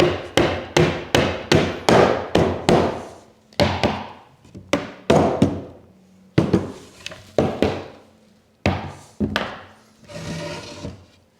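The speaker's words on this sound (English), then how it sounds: "So I'm going to pound it down." A plywood drawer bottom is pounded down into a wooden dovetail box: a quick burst of sharp, loud hammer blows, then slower, spaced strikes with short pauses, no talking.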